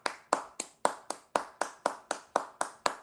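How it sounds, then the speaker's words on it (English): One person claps hands alone, about a dozen sharp, evenly spaced claps, close and fairly loud, with no other sound between them. "Let me give a round of applause for IGN at first."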